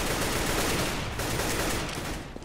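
Gunfire from a Counter-Strike match on the de_nuke map in an ESEA league game comes as dense, rapid bursts of shots with no pause, set against steady game noise.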